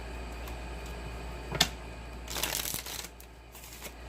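Tarot cards being shuffled, a soft nearby riffle and a couple of brief card rustles over a quiet room hum.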